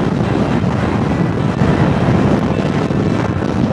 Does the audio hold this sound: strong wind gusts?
yes